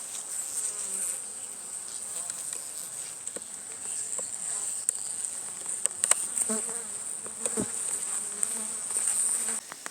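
Honey bees buzz around an open hive during a September inspection, a steady high-pitched hum of many insects with scattered faint clicks and knocks of hive handling, no voices.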